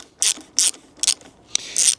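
A socket ratchet loosens a long bolt on a Kawasaki Ninja 1000SX motorcycle, four or five quick bursts of crisp clicking spaced about half a second apart, close and clear with no talking.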